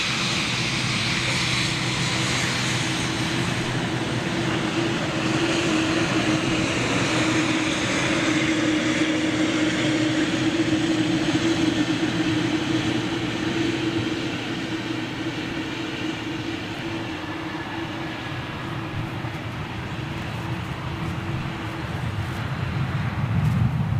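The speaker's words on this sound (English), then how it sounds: "I've got this Qatar Dreamliner right in front of me" A Qatar Airways Boeing 787 Dreamliner jet roars steadily nearby, a loud sustained engine rumble and whine that holds for the full stretch before easing slightly, with no voices.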